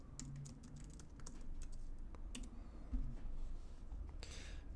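Typing on a computer keyboard runs as a steady close patter of quick key clicks over several seconds, with a faint room hum beneath and no speech.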